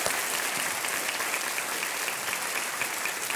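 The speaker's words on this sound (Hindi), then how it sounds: "और तालियों के साथ इनका स्वागत हम करते हैं।" Studio audience applauding on the KBC game show set, a dense, steady clapping that fills the room at a constant level for a few seconds with no voices over it.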